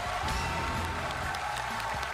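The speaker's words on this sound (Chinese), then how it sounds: "掌声送给二位" A studio audience at a televised Chinese crosstalk and sketch comedy contest claps steadily for two performers, a dense, sustained wash of applause.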